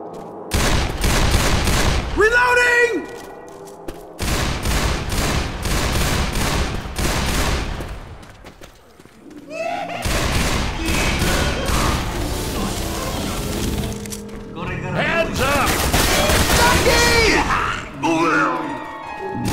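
Loud, dense bursts of automatic gunfire from the Left 4 Dead 2 video game roll almost continuously, broken by brief pauses, with in-game character voices and groans mixed in.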